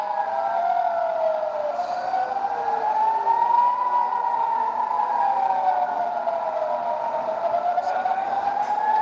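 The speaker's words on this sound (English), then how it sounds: "Air raid siren sounding in Jerusalem." Air raid siren wailing across Jerusalem, its long rising and falling tones layered from more than one siren, loud and continuous throughout, with faint background noise beneath.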